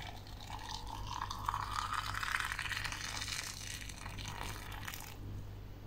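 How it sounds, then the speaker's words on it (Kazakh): Boiling water is poured into jars of cucumbers, making a faint, steady stream with a rising filling tone over a low background hum; the stream trails off near the end. "Міне осылай қайнап тұрған ыстық суымызды әрбір банкамызға құйып аламыз."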